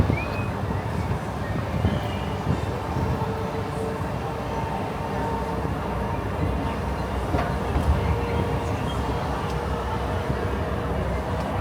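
A Disneyland parking tram rumbles steadily along its route, a low continuous mechanical drone with faint squeaks and rattles, no talking heard.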